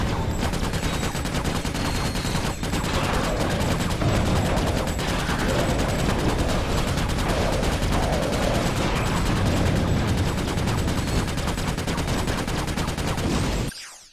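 The magma cannon fires in Ratchet: Deadlocked as a loud, dense, unbroken barrage of blasts that lasts about fourteen seconds and cuts off abruptly at the end.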